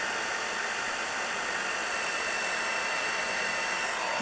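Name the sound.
heat tool heat setting stamped card image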